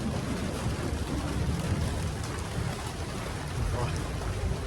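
Light rain drizzles steadily in an outdoor setting with a strong wind, a constant soft hiss with a faint low rumble underneath and no other distinct sounds.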